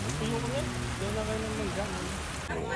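Steady rain falls outdoors in Dabilan, a dense constant hiss of drops on surfaces, loud and close, with voices talking underneath.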